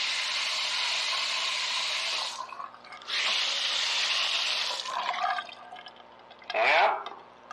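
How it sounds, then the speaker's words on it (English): A newly installed bathroom faucet gushes in loud bursts, shutting off and restarting, with a brief splashing surge near the end. "Going to test the faucet."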